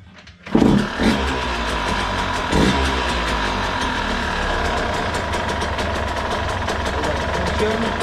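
A Yamaha DTR 125 motorcycle engine fires up after a brief quiet moment and settles into a steady, loud, close running drone that lasts to the end.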